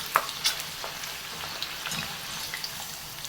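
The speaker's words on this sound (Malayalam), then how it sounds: "ഇത് വറുത്ത് കോരി എടുത്തിട്ട് നമുക്ക് കുറേശ്ശായിട്ട് ഇട്ട് കൊടുത്തിട്ട് വറുത്ത് കോരിയെടുക്കാം." Thin-sliced tapioca chips deep-fry in hot oil, giving a soft, steady sizzle with scattered crackling pops and light stirring clinks, fairly quiet and close.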